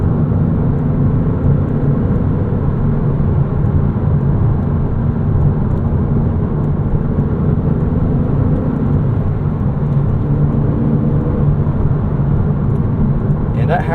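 Cabin of a 2006 Porsche Cayman S cruising at highway speed just under 3,000 RPM, a steady, loud low engine and road drone with whirring tire and wind noise that stays constant and unbroken.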